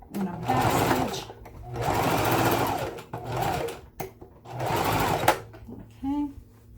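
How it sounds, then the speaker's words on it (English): A sewing machine back stitches through a handbag near its strap, running in several steady bursts with short pauses between them, while someone talks over and between the runs. "I'm gonna back stitch."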